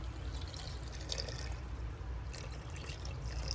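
Water poured into an Instant Pot over vegetables for homemade vegetable stock, a steady splashing, trickling stream that runs continuously and close by, with no talking.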